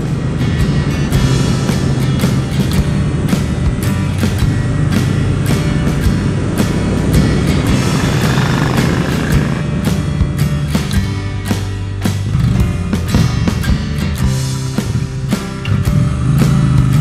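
A Triumph Bonneville T100 motorcycle cruises along at a relaxed pace, its engine a steady, loud drone mixed with rushing wind noise that carries on throughout without talk.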